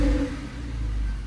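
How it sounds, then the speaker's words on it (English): A cold 2007 Porsche 911 Carrera 2S convertible with its factory sports exhaust valve open, parked against a wall, gives a short, deep rev that swells, dips and then holds a steady low rumble. "Valve's open."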